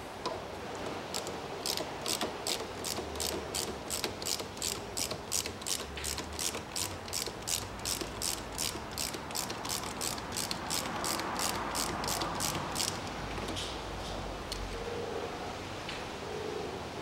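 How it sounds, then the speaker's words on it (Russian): A hose clamp on the throttle body of a 2012 Hyundai Solaris is unscrewed with a ratchet, producing a steady run of evenly spaced clicks over background hiss, close but moderately quiet. "И откручиваю снизу хомут."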